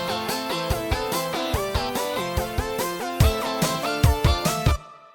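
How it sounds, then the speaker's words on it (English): Linn drum machine hits enter beneath a bright synth and keyboard arrangement in an 80s-style Logic Pro track, the drums growing more prominent toward the end before everything cuts off; no voices. "you hear the Linn drum come in and it sounds like this"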